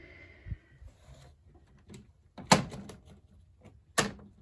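The small access door of an Epson SureColor F570 large-format printer is opened, giving a series of plastic clicks and latch knocks, with two sharp, prominent snaps near the end.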